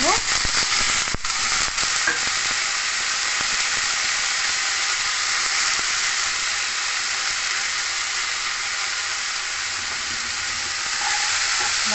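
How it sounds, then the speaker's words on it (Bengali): Greens and potatoes hiss and sizzle loudly in a pan while being stirred, with a few sharp scrapes of the utensil early on and a constant frying roar throughout, no voices. "দেবো নাড়াচাড়া করে নেবো"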